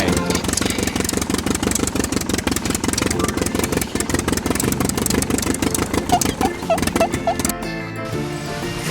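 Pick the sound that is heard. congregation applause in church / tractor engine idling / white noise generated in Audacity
tractor engine idling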